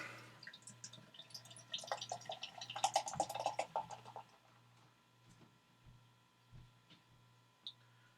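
A drink being poured from a can, heard as faint, close trickling and dripping with small clinks over a low steady hum.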